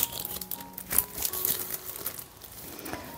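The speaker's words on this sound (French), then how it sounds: "Et maintenant, je mets mes papiers." Paper crinkles and rustles close by in short irregular bursts, a dry crackling as papers are laid onto an acrylic pour painting, handled for a few seconds with no talking.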